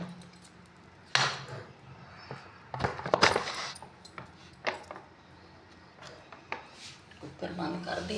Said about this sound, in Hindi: अब करते हैं कुकर को बंद।